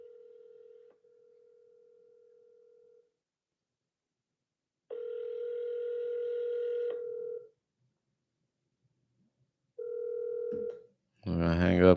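Landline telephone ringback tone on an outgoing call, a steady electronic tone from the line repeating in long bursts with silent gaps, followed by a short burst of voice at the end.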